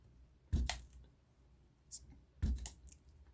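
Shears cut through decal paper, making two sharp, separate snips about two seconds apart, close and crisp against a quiet background.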